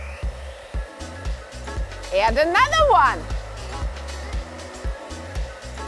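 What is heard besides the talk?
hairdryer blowing ping-pong balls in its airflow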